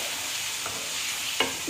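Tomato puree cooks in oil for Mughlai chicken changezi, a brief, steady sizzle with a faint scrape of stirring.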